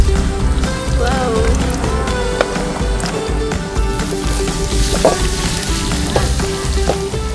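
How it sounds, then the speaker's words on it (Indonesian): Chopped timpoy is stir-fried in a pan, with a continuous loud sizzle and crackle and occasional scrapes of stirring, with no voices over it. "Memasak tumis timpoy ini tidak membutuhkan waktu yang terlalu lama"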